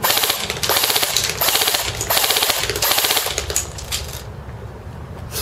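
Full-auto bursts from a tan M4 rifle fired at a man-sized target 150 feet away on an outdoor range, loud rapid rattling volleys in several bursts, then a quieter tail.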